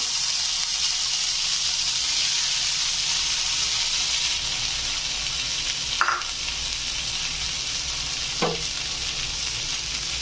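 Steady sizzling of noodles frying in a pan with ground coriander, chili and cumin, a continuous dense hiss with a couple of brief stirring scrapes, close and loud with no voices.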